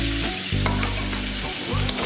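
Capsicum and onion frying with a little salt in a pan for chilli chicken, a steady sizzle broken by a couple of sharp stirring clinks and low humming tones in the background.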